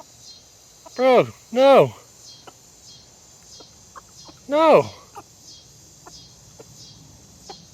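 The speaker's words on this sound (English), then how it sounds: "Roosters love cat food." A rooster makes three loud, close clucking calls, two together and one a few seconds later, near a gate with cat food set out. A steady insect drone runs underneath and a person briefly speaks.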